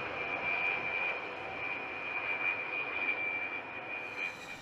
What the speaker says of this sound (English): A-10 pilots will practice their austere landing capabilities on highways all around the